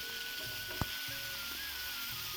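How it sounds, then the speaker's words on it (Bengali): Fresh swamp barb (sharputi) fish fry in hot oil with a quiet, steady sizzle, broken by a few faint clinks and stirring taps, with no talking. "তো আমি মাছগুলো এখন সুন্দর করে ভেজে নিতেছি।"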